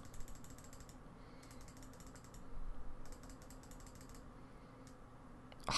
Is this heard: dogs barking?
no